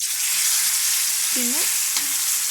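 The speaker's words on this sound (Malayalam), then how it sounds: "മീൻ ഫ്രൈ ചെയ്യാനുണ്ടായത് എടുത്ത് ഫ്രൈ ചെയ്തുകൊണ്ടിരിക്കുകയാണ്" Fish fries in a pan with a constant bright, hissing sizzle, close and even, as a brief spoken word and a short tonal squeak rise over it.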